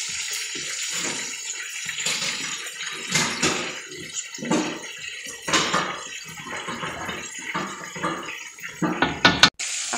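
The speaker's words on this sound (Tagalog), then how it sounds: "Ako, dinagdagan ko ng tubig." Water pours from a tap into a pot for a fish stew with tomato, a continuous splashing gush with fluctuating bursts and clatter, close and fairly loud, ending with a brief knock.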